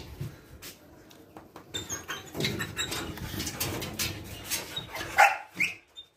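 Several dogs bark in bursts, some yaps close and loud and others fainter, with a few whimpers and a loud cluster of barks near the end; no speech is heard.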